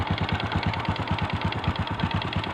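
A repaired motorcycle engine idles steadily after carburetor work, with a close, even, rapid chugging beat and light mechanical clatter running alone throughout.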